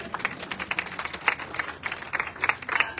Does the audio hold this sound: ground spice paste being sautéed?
no